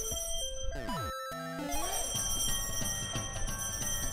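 Jingle bells play in Super Mario Maker 2, bright chiming tones with a quick run of falling notes and layered melodic pings against a quiet game soundtrack.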